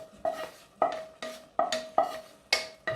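Spoon scraping and clattering against a pan as chickpeas and mushrooms are stirred together for chana saag, about seven sharp strokes in a steady rhythm, close and clear, with no talking.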